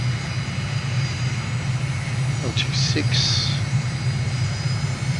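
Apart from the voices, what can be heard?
aircraft engine in Microsoft Flight Simulator video game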